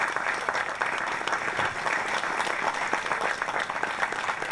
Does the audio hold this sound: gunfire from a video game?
no